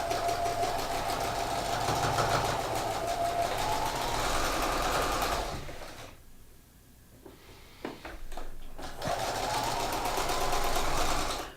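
A sewing machine stitches a double hem on a shirt with a steady, close mechanical whir, pauses briefly in the middle with a few handling clicks, then resumes running.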